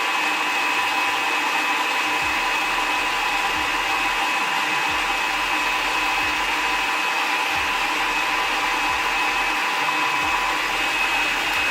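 Loud, steady whirring drone of an electric mixer whipping egg whites and sugar toward stiff peaks, running continuously, a constant high motor whine with no pauses or voices.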